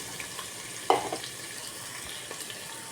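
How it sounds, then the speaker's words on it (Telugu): Finely chopped onions and green chillies fry in a pan for murmure upma with a steady close sizzle, broken once by a brief clatter of stirring, and no voices. "మనం సన్నగా చాప్ వేసుకున్న ఉల్లిపాయలు బాగా ఫ్రై అయిపోయి చూసారండి"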